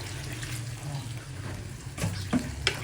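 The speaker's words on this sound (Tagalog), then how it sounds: "lalagyan natin siya ng mga 1/4 lang or 1 tasang tubig" Water is poured into pinakbet vegetables cooking in a pan, a soft splashing over a faint simmer, followed by a few light clinks of a serving spoon.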